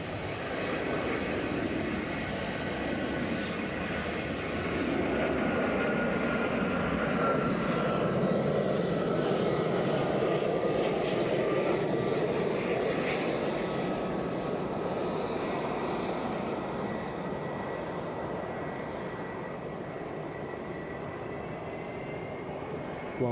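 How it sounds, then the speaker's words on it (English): A business jet departs Edinburgh Airport, its engines holding a sustained, broad roar that swells slightly in the middle and eases toward the end, heard steadily from a distance with no talk. "We'll wave the bizjet off"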